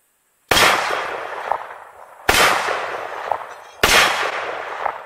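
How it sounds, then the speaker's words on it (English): Three loud, close rifle shots from a Russian SKS ring out at an even pace, each a sharp crack followed by a long echoing decay before the next. "Today, we're shooting the Russian SKS."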